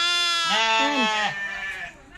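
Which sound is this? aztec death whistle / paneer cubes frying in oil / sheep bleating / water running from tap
sheep bleating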